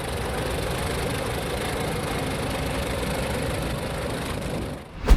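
Oliver 80 Industrial tractor, a heavy-duty late-1930s model, with its engine running steadily in a continuous rough rumble that holds even throughout, ending in a brief thump.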